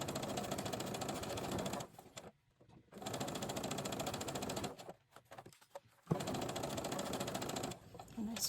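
A sewing machine stitches a seam on material for 18-inch doll shorts, giving a rapid mechanical rattle in three bursts separated by short pauses, close and fairly loud.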